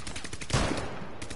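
A shotgun blast in the video game Rainbow Six Siege, one loud close boom in the middle amid broadband game noise.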